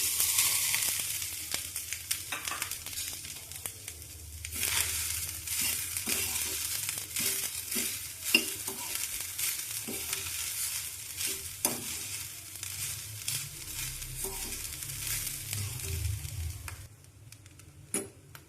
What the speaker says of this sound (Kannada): ಇವಾಗ ಒಂದು ಸ್ವಲ್ಪ ಎಣ್ಣೆ ಹಾಕ್ಕೊಳ್ತೀನಿ.